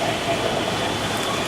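Strong wind roars during a thunderstorm under a tornado warning in Carrollton, heard as a loud, steady, broad rushing noise with no talk.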